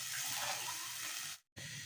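Water pours steadily from a tap into a pot for cooking masoor dal, a continuous close gush that cuts out abruptly and then resumes.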